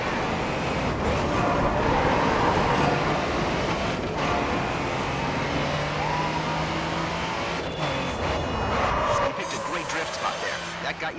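A race car engine drones loudly and continuously in the Grid 2 racing game, with pitch shifts as it pushes hard. A voice speaks over the engine.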